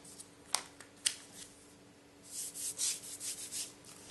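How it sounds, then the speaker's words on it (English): A blade scrapes off excess material on a handmade memoir journal cover, a couple of sharp ticks early on, then a run of soft, close, rhythmic rubbing strokes. "And just scrape off the excess."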